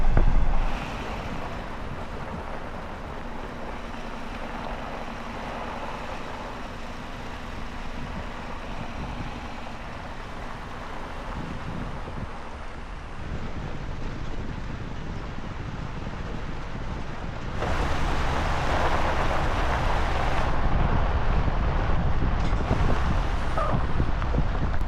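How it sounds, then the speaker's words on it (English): Whitewater rapids on the Klamath River in Southern Oregon, roughly Class 3, rush in a steady, dense roar that holds throughout and swells louder toward the end, with wind buffeting the microphone. "There may not be any fishing on this section of the Klamath because that looks more like, I don't know, Class 3 whitewater"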